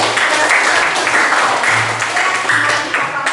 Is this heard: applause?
yes